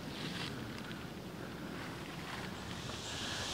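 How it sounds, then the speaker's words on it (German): Wind blows steadily through an autumn forest near the Danube, a broad, constant rushing roar with gusty swells and no voices. "Ihr seht, da geht ein schöner Wind und das im Wald."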